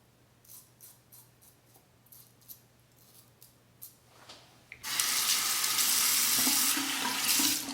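A few faint taps give way to running tap water gushing steadily as a Parker 71R razor is rinsed under the faucet, close and continuous for the last few seconds.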